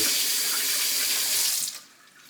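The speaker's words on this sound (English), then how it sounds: "just wash our hands like that" Tap water runs steadily into a sink while hands are washed, a loud close hiss that cuts off abruptly near the end, leaving quiet.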